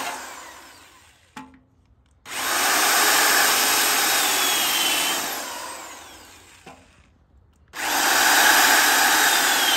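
A power drill bores holes in a plant container in two long, loud whining runs separated by a pause, with brief clicks at the starts and stops, heard close up outdoors in a garden.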